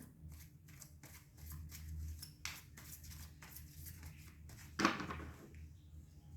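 A tarot card deck is shuffled close by in a quiet room, giving soft, repeated papery riffles and flicks, with one sharper snap of the cards near the end.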